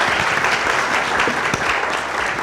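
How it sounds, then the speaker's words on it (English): An audience applauds the panelists at the close of a panel discussion on inflation and competition policy, a steady, dense round of clapping heard close. "I'd like us all to give them a clap and thank them very much for this afternoon."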